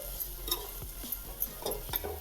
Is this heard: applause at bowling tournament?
no